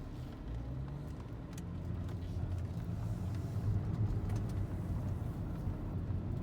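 A 2011 Mercedes C300 4Matic drives at about 30 mph with a steady, low engine and road rumble heard from inside the cabin, with no one speaking.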